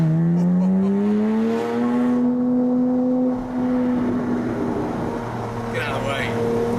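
Porsche 981 Boxster S with an Armytrix valved exhaust heard from inside while driving, a loud steady raspy engine drone rising in pitch then holding.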